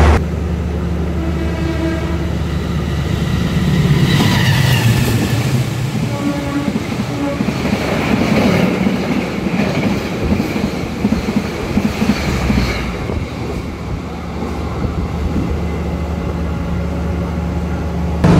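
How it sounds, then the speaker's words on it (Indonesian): Manahan passenger train passing through Sumpiuh station, a loud, sustained rumble with clattering wheels and a squeal rising midway, steady throughout with no talk. "kereta Manahan akan segera melintas di stasiun Sumpiyuh"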